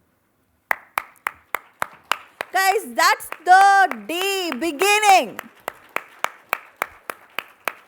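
Rhythmic clapping in a steady beat at a cooperative development summit in Bengaluru, roughly fifteen sharp claps paced about a third of a second apart, with a singing or chanting voice rising over the middle stretch.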